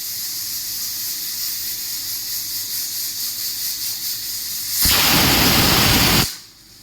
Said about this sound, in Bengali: একটা জাস্ট সিটি পড়বে বন্ধ করে দেব